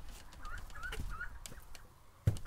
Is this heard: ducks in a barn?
yes